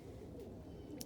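Roller pigeons in a mating pen, a faint, low, throaty cooing murmur rolling continuously in the background, with a brief tiny flick near the end.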